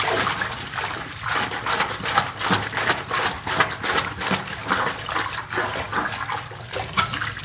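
Liquid sloshing and splashing as a wind instrument is worked through a degreaser bath at a music shop, a steady watery churn with rhythmic surges, fairly close and continuous, no voices.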